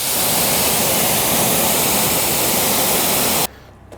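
Pressurized water sprays hard onto a car wheel and brake disc, rinsing off Koch Chemie wheel cleaner in a dense, loud hiss for about three and a half seconds before cutting off abruptly, leaving quiet drips.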